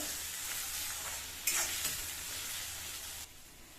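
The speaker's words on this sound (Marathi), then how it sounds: "एक बारीक चिरून घेतलेला टमॅटो टमॅटो नरम होईपर्यंत तेलामध्ये भाजायचा आहे" Finely chopped tomato frying in hot oil, a continuous close sizzle with a sudden louder burst of hissing and stirring midway before settling back to a steady fry.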